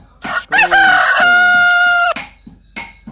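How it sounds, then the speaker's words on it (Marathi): A rooster crows once, loud and close, a long rising then sustained call lasting over a second, followed by a few short clucks. "खूप छान रोस्टर"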